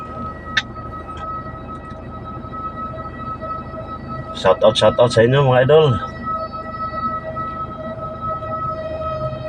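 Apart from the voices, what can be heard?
fire truck siren wailing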